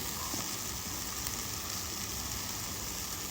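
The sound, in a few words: spices sizzling while frying for mola fish curry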